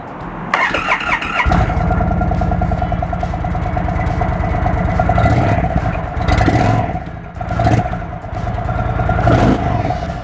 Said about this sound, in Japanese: では私の大好きなサンダーストローク116エンジンを積んだチーフエンジンかけていきたいと思います